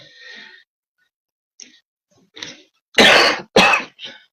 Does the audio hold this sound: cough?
yes